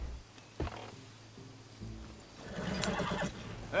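Horses in the video game Red Dead Redemption 2 neigh and snort amid hoof thuds and scuffling. A sharp whinny comes early and a busier burst of horse sounds follows near the end, fairly close and without speech.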